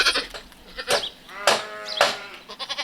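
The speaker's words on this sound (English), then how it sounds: "Little baby goat born last night." A newborn male baby goat bleats in several short, close cries, roughly three distinct bleats spaced about half a second apart, clear and moderately loud with no talk over them.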